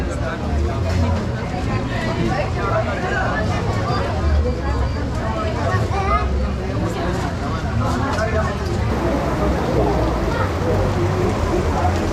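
Heavy rain pours steadily on a surface nearby in Bello, near Medellín, Colombia, a constant dense patter, with people talking and a murmur of voices over it.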